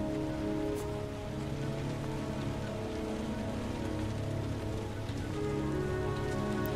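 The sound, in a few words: rain falling, from the video game Heavy Rain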